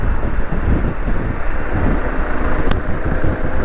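Harley-Davidson Pan America motorcycle cruising on the road at midday, a steady engine drone blended with heavy wind rush throughout, no talking.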